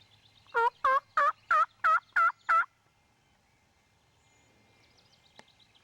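A wild turkey tom gobbles loudly in a rapid run of about seven pulsing notes, followed by quiet outdoor stillness.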